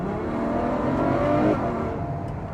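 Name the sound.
V12 supercar engine revving while warming up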